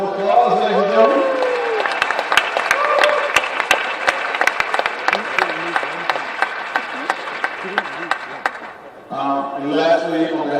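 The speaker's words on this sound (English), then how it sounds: "Let's give them one last round of applause, ladies and gentlemen." An audience at a senior signing celebration applauds, a loud sustained round of many hands with sharp individual claps standing out, fading near the end before voices and cheering rise again.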